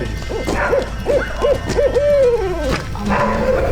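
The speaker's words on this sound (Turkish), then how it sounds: "Gene baykuş." An owl gives a series of rhythmic, hollow hoots, close and loud, then a longer drawn-out call over a low background rumble.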